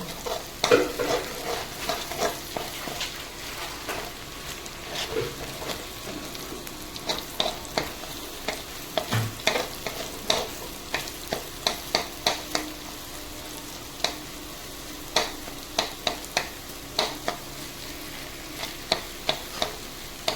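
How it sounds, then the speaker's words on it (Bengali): Scrambled egg frying in a pan, stirred slowly with repeated scraping strokes that click and rasp over a soft constant sizzle, heard close and alone for a long stretch. "আমি ডিমটাকে এবার ভুজিয়া বানিয়ে নেবো আস্তে আস্তে করে নাড়বো নেড়ে নেড়ে ভুজিয়া করে নেবো"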